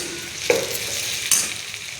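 Oil sizzles steadily as chopped onion and tomato fry in a pan with no water added, with a couple of brief scraping stirs.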